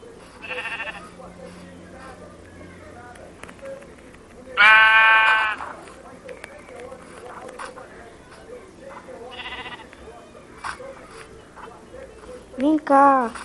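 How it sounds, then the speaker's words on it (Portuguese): Sheep in the video game Minecraft bleat in several short, separate calls spread across the stretch, one notably loud and close, with a player's voice talking between and over them. "Uma ovelha."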